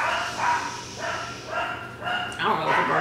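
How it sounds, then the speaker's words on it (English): Dogs barking in another room of a house in daytime, several muffled barks in a loose rhythm, moderately distant, under a voice talking. "I don't know what they're barking at."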